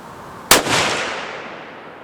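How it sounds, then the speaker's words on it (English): A single loud gunshot from a Ruger American rifle chambered in 7 PRC, fired outdoors: a sharp crack followed by a long fading tail that rolls away over about a second and a half. "I just came out here and started shooting it."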